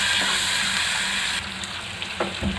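About 250 grams of marinated prawns frying in a pan, a loud dense sizzle that eases partway through, followed by a couple of light stirring clinks.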